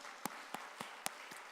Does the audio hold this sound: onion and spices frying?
no